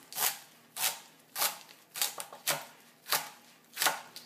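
Knife chopping leafy green stems into quarter-inch segments on a cutting board, seven crisp, evenly spaced chops close up in a steady rhythm with quiet gaps between strokes.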